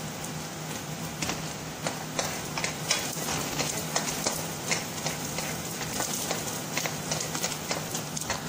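Ingredients for pansit sautéing in a pan, a steady crackling sizzle with irregular scraping and stirring clicks throughout, fairly close.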